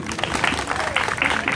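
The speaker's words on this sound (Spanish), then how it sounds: "Bueno, aplausos para este amigo" A crowd applauds steadily and loudly for a child contestant at a local festival contest in Zaachila, Mexico, with a voice faintly audible beneath the clapping.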